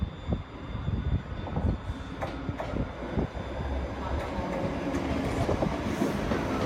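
A ScotRail Class 385 electric train departs Edinburgh Waverley station, with a loud, close rumble of wheels, clattering rail joints and rising motor hum filling the platform.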